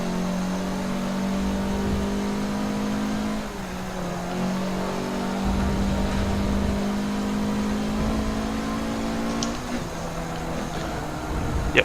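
A Lamborghini Aventador SV engine in a racing video game drones and climbs through revs under acceleration, with a brief dip and shift partway before it builds again, loud and continuous.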